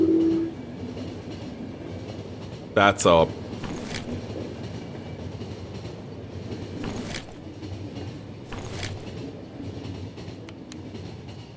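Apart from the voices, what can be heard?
train in a video game (The Final Station)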